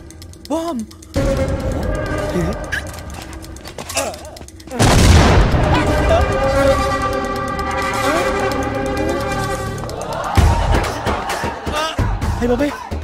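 Loud booming blasts from bomb explosions in a Telugu comedy film scene, a heavy burst erupting midway and sustaining with rumble, mixed with film music and overlapping shouting voices.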